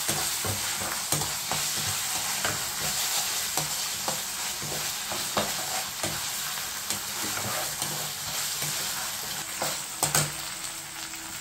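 Ginger garlic paste frying in a pan for a ridge gourd and chana dal curry, a continuous sizzle broken by repeated scraping stirs of a spoon against the pan.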